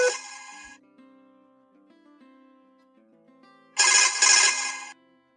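A phone rings after being triggered by the find-phone app on a Blackview W60 smartwatch: a loud ringtone burst, a quieter melodic tail, then a second loud burst, all close and clear with no talking.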